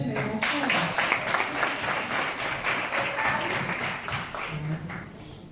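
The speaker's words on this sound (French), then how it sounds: "Applaudissez les enfants." An audience of parents applauding children at a French-language church event, sustained dense clapping throughout with voices talking over it.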